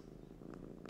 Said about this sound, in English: He's purring. That means he's happy.